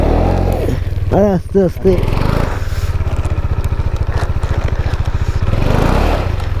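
A KTM Duke 390 motorcycle engine revs and chugs steadily as its stuck rear wheel spins and skids, with a rhythmic pulsing throughout and a person speaking briefly over it near the start.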